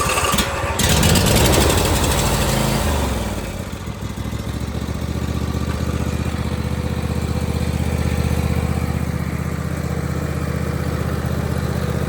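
A John Deere riding mower's engine cranks briefly, catches and settles into a steady, loud idle that runs on without a break, heard up close with no talking.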